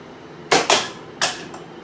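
A children's toy gun firing at targets in a shooting game, with three or four sharp, close snapping shots in quick succession, the last one fainter.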